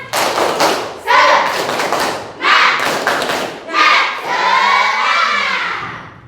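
A school class performs the rhythmic tepuk semangat spirit clap, with loud children's group claps and shouted chants coming in several bursts close by.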